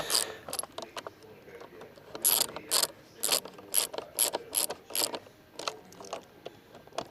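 A ratchet tightens the sat nav mount bolts on a VOGE 900 DSX motorcycle, rapid clicking bursts in short repeated strokes with brief pauses between, close and clear.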